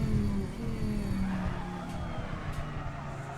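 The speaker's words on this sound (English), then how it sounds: "The tire's squealing all the time" A 1999 Dodge Viper GTS-R racing car in a racing game on the Nordschleife, its tires squealing continuously as it scrabbles for grip, with a low engine drone underneath, steady and close without pauses.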